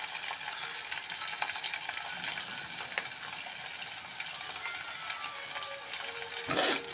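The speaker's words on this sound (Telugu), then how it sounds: "ఉల్లిపాయలు తొందరగా వేగడానికి సాల్ట్ కూడా వేస్తున్నాను" Onions frying in a pan with salt added while cooking ulavacharu, a steady broadband sizzle with light stirring scrapes throughout and a brief louder clatter near the end.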